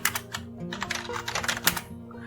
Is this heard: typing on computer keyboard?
yes